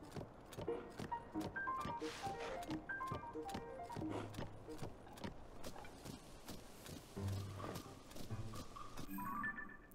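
Horse hooves clip-clopping at a steady gait in the Zelda: Tears of the Kingdom video game, rapid rhythmic hoofbeats under game music with occasional game sound effects.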